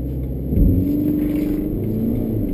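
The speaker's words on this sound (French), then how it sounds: "je lance le moteur" A BMW X1 2.0d xDrive diesel engine starts up with a cranking burst and catches, then settles into a steady, close, rumbling idle with a slight rising whir, heard on its own.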